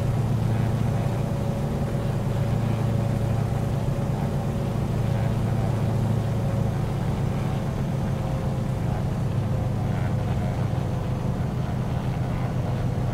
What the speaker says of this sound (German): Aber man hört es auch an den Motoren.